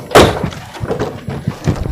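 Doors of a 2000 Toyota Kijang Krista diesel being opened and shut, a solid thunk up front followed by several lighter clunks and rattles, close by with no talking.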